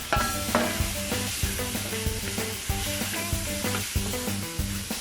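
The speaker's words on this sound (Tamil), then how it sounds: "இதெல்லாம் போட்டு இப்போ நல்லா வதங்கட்டும்" Tomatoes and spices sauté in a pan with a steady sizzle, punctuated by a series of rhythmic stirring scrapes and soft knocks of a spoon against the pan.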